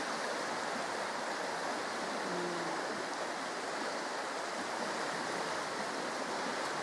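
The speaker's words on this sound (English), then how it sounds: "Yeah, it's the river down there flowing away." A river flowing below a night-time stealth camp, a steady broadband wash of water that stays constant and unbroken throughout, with no voices.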